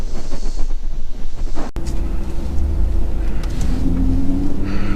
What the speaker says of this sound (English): go get in the truck and head on down the road